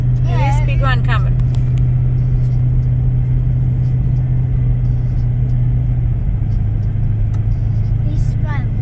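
A big truck rumbles past on a dirt outback road in the Tanami, a loud, steady low engine drone that shifts in pitch partway through, with brief voices at the start and end.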